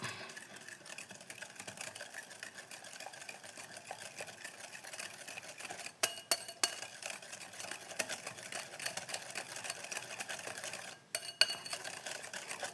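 Sugar being stirred into banana cake batter, a steady scraping and clinking of a utensil against a bowl with a few sharper knocks, close and fairly quiet.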